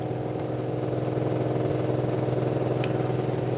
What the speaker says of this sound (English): Sorry about the tractor.